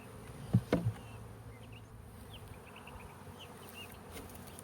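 A honeybee swarm buzzes steadily in a busy hum during hive relocation, with a few soft knocks just at the start and no talking.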